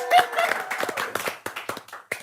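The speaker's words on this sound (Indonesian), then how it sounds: "Tepuk tangan untuk para peserta kita" A small game show audience claps for the contestants in a brief, scattered burst of hand claps, uneven and fairly close, lasting only a couple of seconds.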